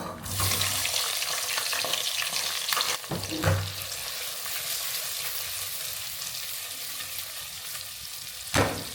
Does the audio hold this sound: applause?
no